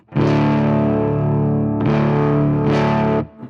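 An electric guitar roars through a Tungsten amplifier turned up to 6, loud distorted sustained chords struck three times in a row, ringing close and dense.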